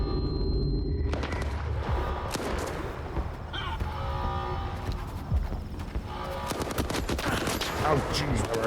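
Rapid gunfire in the video game S.T.A.L.K.E.R. 2: Heart of Chornobyl, with bursts of automatic shots and single cracks overlapping loudly and continuously, and a voice shouting over the shooting.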